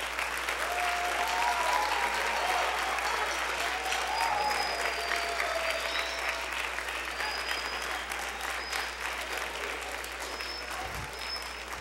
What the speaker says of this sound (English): give your parents a round of applause for supporting you in your musical